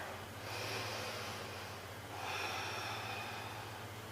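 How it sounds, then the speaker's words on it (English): A slow, deep inhalation during a yoga pose, heard as two long airy swells of breath close to the mic over a steady low hum, with no talking. "big breath here."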